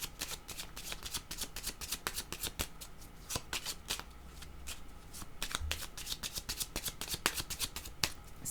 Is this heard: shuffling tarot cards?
yes